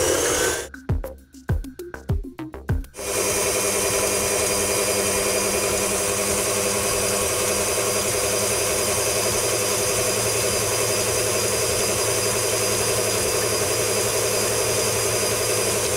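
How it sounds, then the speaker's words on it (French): An electric mixer whips egg whites for an Italian meringue, making a steady, loud motor whine that runs without a break after a few uneven bursts at the start. No voices are heard. "On va juste démarrer les blancs pour les monter en neige."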